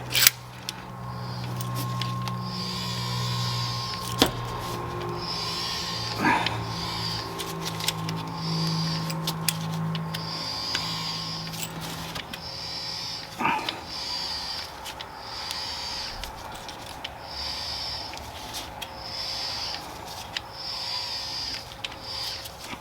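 A 2022 Ford Maverick rear brake caliper piston is turned in against the electric parking brake motor, giving a steady mechanical whine with faint ratcheting clicks and a few sharper knocks, fairly close and moderately quiet.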